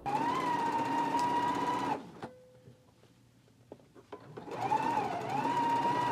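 A sewing machine whirs in a fast, steady run, pauses with a few soft clicks and handling noises, then starts stitching again.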